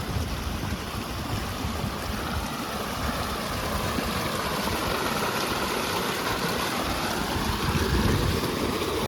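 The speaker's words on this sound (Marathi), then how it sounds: "खालच्या प्लॉटमध्ये पाणी चाललं आहे पाण्याचा आवाज आहे" Continuous rushing water flows down an irrigation channel on a farm nearby at a steady, fairly loud level, a broad churning wash with no talking.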